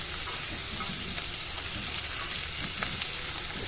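Onion and bell pepper stir-fry in a pan with grated garlic and ginger, giving a steady, close hiss of sizzling oil with faint scraping of the spatula throughout, no voices.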